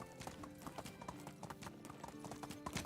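Horse hooves clip-clop in a steady rhythmic gait in the medieval survival game Medieval Dynasty, close and continuous over a dense bed of game ambience and music.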